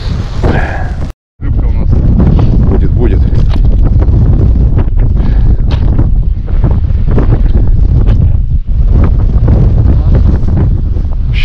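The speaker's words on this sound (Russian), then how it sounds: "Ветер он фигачит." Strong wind buffets the microphone out on a frozen lake during winter ice fishing, a loud continuous roar with one brief dropout near the start; a person speaks at times beneath the gusts.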